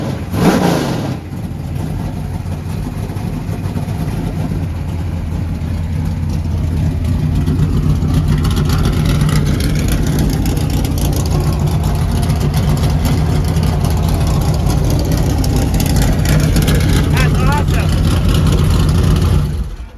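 A loud, rumbling V8 engine of a 1967 Dodge Dart idles close by, its deep throb steady with slight revving, while voices talk faintly underneath.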